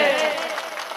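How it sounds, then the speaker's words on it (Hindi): Audience applause at a Hindi kavi sammelan poetry recital, a dense sustained wash of clapping that is loud at first and slowly fades over one second. "मुझे आपसे इतनी तालियों की उम्मीद नहीं थी, सच बता रहा हूँ।"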